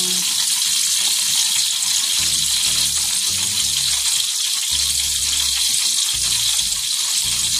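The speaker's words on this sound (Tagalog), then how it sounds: "nagpiprito na ako ng talong" Eggplant sizzles loudly and steadily in hot oil, a dense continuous crackle with a low hum and thumps beneath it.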